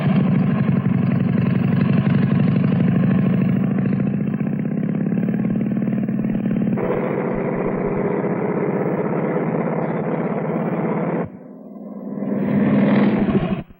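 A motorcycle engine runs steadily during a riding test, a loud, buzzing drone that shifts pitch partway through, then drops briefly before revving back up near the end.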